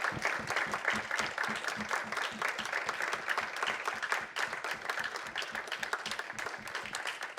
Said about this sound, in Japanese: 拍手でぜひ拍手でお迎えください。